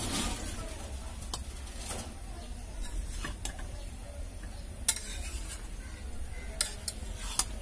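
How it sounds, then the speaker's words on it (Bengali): A utensil stirs fried eggs with coriander leaves in a pan, giving soft scraping and scattered sharp taps against the metal over a faint steady sizzle. "তো আর একটু নাড়াচাড়া দিয়ে এটা আমি নামিয়ে ফেলবো"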